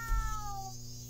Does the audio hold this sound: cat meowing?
yes